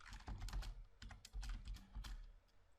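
Keys clatter on a computer keyboard as code is typed for an Oracle PL/SQL tutorial. Bursts of quick, close clicks arrive in short uneven runs with brief pauses between them.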